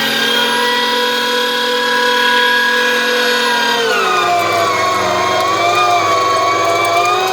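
An electric meat grinder runs loud and steady as it grinds venison, its motor whine holding constant and then dropping to a lower, strained pitch partway through as it is switched up to high speed.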